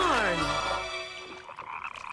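Cartoon frogs let out a loud croak that slides downward in pitch, followed by softer fluttering croaks trailing off, with no speech.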